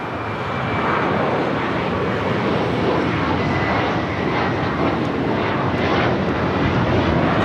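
British Airways jet powering up for takeoff toward the north side at LAX, a steady, loud broadband engine roar holding constant through the whole stretch with no voices over it.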